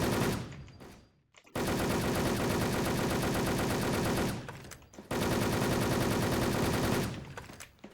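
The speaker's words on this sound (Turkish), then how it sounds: "Olduğu yerde ateş ediyor herif ya." Sustained automatic gunfire from the Wolfteam shooter game, two long rapid-fire bursts broken by a brief pause, loud and dense with no speech.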